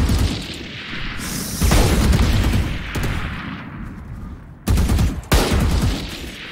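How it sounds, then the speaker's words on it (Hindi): Rapid bursts of gunfire from the video game Valorant, loud and dense, with heavier booming shots near the end and continuous fire throughout. "क्यों गोलियां वेस्ट कर रहा है?"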